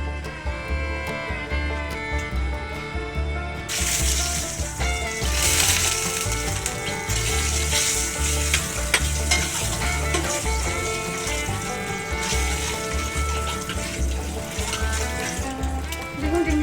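Eggs frying in hot oil in a wok for egg biryani, a steady crackling sizzle that grows brighter and louder after the first few seconds, with a faint background tone beneath.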